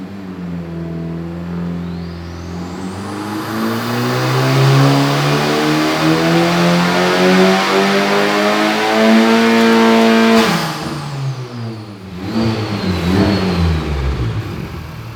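A Honda Civic Type R FK8 engine revs hard through a dyno pull, its pitch climbing steadily to a loud peak before cutting off, then a brief second burst of revving; close and dominant.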